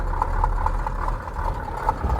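A KAMAZ truck engine idles with a low, steady rumble and a faint rhythmic knock, close by and without talk.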